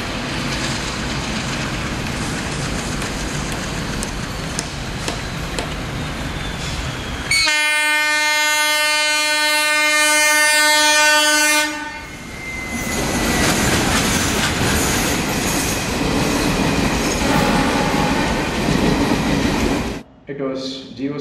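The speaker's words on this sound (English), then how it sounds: "It was GOC Green Alco along with Garib Rath Express." An Indian Railways GOC green Alco diesel locomotive hauls the Garib Rath Express past with loud rumbling and clattering wheels, and a long, strong horn blast sounds midway before the rolling clatter of the coaches carries on.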